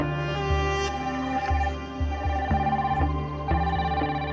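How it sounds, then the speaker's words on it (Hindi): A mobile phone rings with a repeating melodic ringtone, steady and fairly loud, pulsing about every half second. "बेल जा रही है, बेल जा रही है।"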